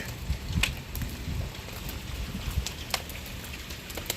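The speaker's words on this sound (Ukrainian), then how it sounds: "Який град." Hail falls outdoors, a continuous patter of icy pellets with scattered sharper ticks and knocks on nearby surfaces, steady and moderately loud with no voices.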